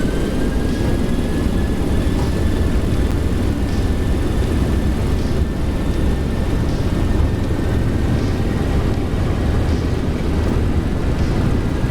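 Airliner engines held at takeoff power in X-Plane 12 for an Alaska Airlines Seattle to Juneau flight, a loud, steady, continuous roar with a faint whine running throughout, no voices.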